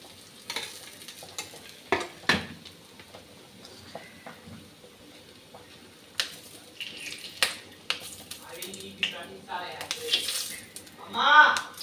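Onions and spice paste for a rohu fish curry with spinach leaves are fried and stirred in a pan. The sizzle stays soft, broken by scraping strokes, with a louder clatter near the end, under occasional talk.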